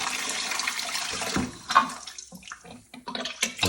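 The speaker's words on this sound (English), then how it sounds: "I recorded a couple of days later with Jesus testing the water supply" Water gushes from a tap fed by a 12V pump at a derelict farm in north Tenerife, a loud spraying rush that sputters and breaks into uneven splashes and air bursts, then drops to intermittent spurts.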